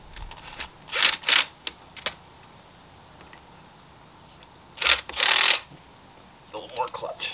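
A drill driver snugs screws into a plastic sprinkler part in short paired whirring bursts, with quiet gaps and faint handling noise between them.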